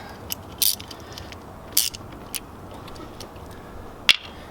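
A ratchet loosens an alternator bolt on a GM 3400 V6 engine, with sharp metallic clicks and clunks spaced irregularly over a low background hum.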